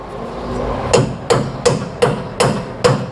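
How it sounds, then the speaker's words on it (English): A steering stabilizer's bushing is hammered through the shock eyelet on a Ford Super Duty, six sharp metallic blows at an even, steady pace, loud and close with no talking. "You're going to shove the bushing through your eyelet on your shock."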